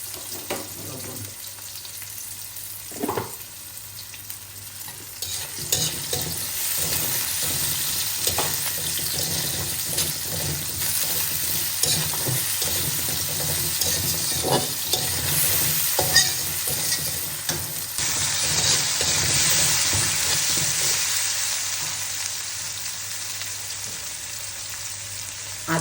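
Beef brain cooking with salt and ginger-garlic paste in a pan, a steady close sizzle of frying broken by repeated scraping stirs throughout, with no voices.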